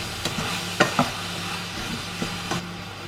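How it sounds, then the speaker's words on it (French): Apple compote stirred in a pot after sugar goes in: a spoon knocks and scrapes against the pot several times at irregular intervals, close and fairly clear over a low background rumble. "On ajoute le sucre. Bien remue, encore une fois."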